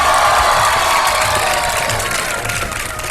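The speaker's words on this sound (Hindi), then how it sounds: "ऊपर वाले मुझे बुलाओ तालियां बजा के।" Studio audience on a Ramadan sehri TV show erupting in loud clapping mixed with cheers and whoops, a dense crowd roar held for about three seconds before easing slightly.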